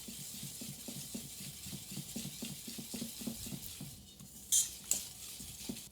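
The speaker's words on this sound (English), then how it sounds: "And we're just going to whisk that up" A whisk beating icing sugar with lemon juice in a bowl, quick rhythmic scraping and ticking strokes, with a couple of louder clinks near the end.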